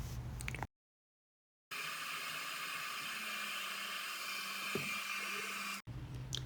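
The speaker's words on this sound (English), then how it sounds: "I do pull out my hair dryer to force that drying and speed things along." A hair dryer blows steadily to force-dry freshly applied wax, a continuous broadband whoosh heard close and loud for several seconds, with brief cuts at the start and near the end.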